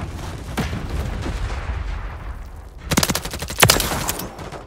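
Gunfire from the Modern Warfare 3 multiplayer beta: scattered shots with a rumbling battlefield backdrop, then a loud cluster of sharp bursts near the end.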